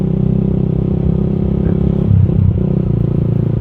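A Honda Sonic 150R motorcycle is ridden along quiet Sunday streets in Jakarta, its engine droning steadily up close with a brief rev and clatter near the end, no voices over it.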